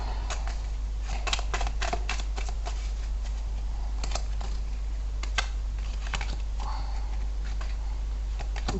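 Tarot cards are drawn and laid out on a surface, making soft, scattered clicks and slaps in irregular clusters, close and light over a steady low hum, with no talking.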